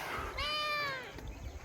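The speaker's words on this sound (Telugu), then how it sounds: "ఈ పిల్లి వచ్చింది పాల కోసం." A cat meows once near a hilltop dargah, a clear, drawn-out cry that rises and then falls over about a second, standing above a quiet outdoor background.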